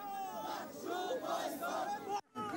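Student protesters at a Jahangirnagar University campus student union election chanting boycott slogans in unison, a rhythmic crowd of voices rising and falling, somewhat distant, with a brief cut near the end.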